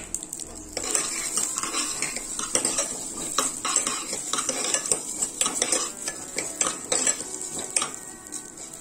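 Fenugreek seeds, cumin and black pepper dry-roasting in a pan, stirred continuously with a metal spoon that scrapes and clinks in quick rhythm over a light sizzle, close and steady throughout without speech.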